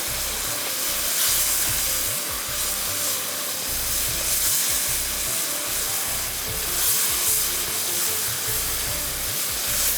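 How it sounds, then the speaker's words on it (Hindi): Spiced minced meat with garam masala and red chili powder dry-roasting in a pan, giving a steady loud hiss and sizzle with rhythmic low scraping throughout. "बस इसको इसकी भुनाई करनी है, बिल्कुल इसको ड्राई करना है।"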